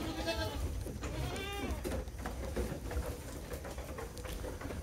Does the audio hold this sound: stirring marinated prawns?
no